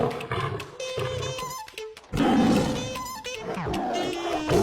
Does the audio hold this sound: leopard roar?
yes